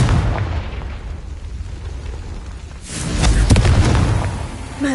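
Confringo blasting spell in Hogwarts Legacy sets off a booming explosion. A low rumble leads into a louder burst with a crackling tail near the end, and no voices are heard.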